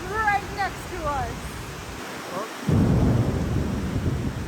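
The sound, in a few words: thunder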